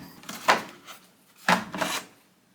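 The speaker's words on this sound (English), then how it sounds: "You need to remove the soap dispenser, and there's just a little tab here to push to pull the drawer out." Soap dispenser drawer pulled out of an LG washing machine: two distinct plastic scraping slides about a second apart, each a short rubbing rasp, close and fairly quiet.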